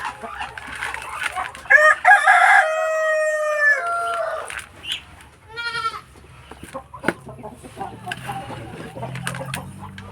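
Backyard chickens eating kangkong, azolla and malunggay crow loudly and cluck nearby, with a long rooster crow followed by scattered clucks and farm noises, and someone talks in the background.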